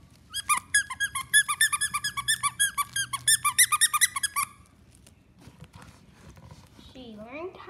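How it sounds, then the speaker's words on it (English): A dog's small squeaky toy squeaks in a rapid, rhythmic run of about twenty bright, close squeaks, then stops, leaving quiet room noise and a faint whine near the end. "And a little squeaky toy."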